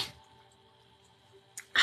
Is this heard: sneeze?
yes